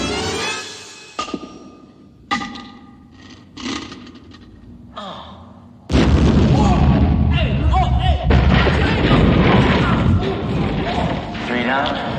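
A grenade explodes in a comedic TV cop show: after sparse thuds and bangs, a sudden loud boom erupts into a sustained, dense roar of blast and debris.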